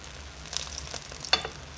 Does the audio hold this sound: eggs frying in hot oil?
yes